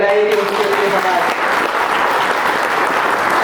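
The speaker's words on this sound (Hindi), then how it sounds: "जोरदार तालियां लगाइए" Audience applause at a radiographer conference, loud and steady, filling the hall for the full stretch, with a voice speaking over it at the start before it fades under the clapping.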